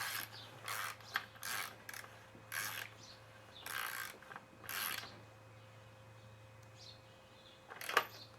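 Spark plug being tightened by hand into an Echo PE 265 engine: several short ratcheting, rubbing clicks in bursts, close and moderately loud over a steady low hum, with a final sharper click near the end.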